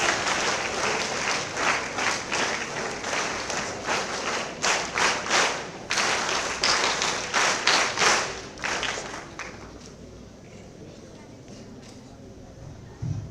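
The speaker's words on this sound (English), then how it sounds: "Give a big round of applause." Audience at a university academic year opening ceremony applauds, strong crowd clapping with some sharper individual claps, fading out toward the end into quieter room sound.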